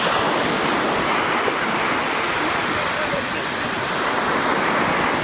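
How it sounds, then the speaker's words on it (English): Steady roar of ocean surf washing onto Hosabettu Beach near Mangalore in the morning, loud and continuous with a slight wind rush over it. "The beach sound."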